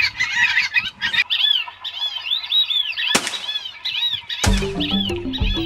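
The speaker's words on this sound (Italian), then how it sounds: "Questi che abbiamo appena visto sono invece dei pato siriri, faccia bianca." A flock of white-faced whistling ducks in Uruguay gives repeated high whistling calls that overlap one another, with a few louder bursts that may be wingbeats or sudden nearby calls.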